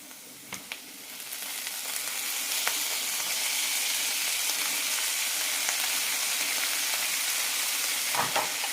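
Banana stem goes into a pan with sautéed onion, first a few stirring clinks, then a rising, steady frying hiss that holds loud and close, broken by occasional utensil taps.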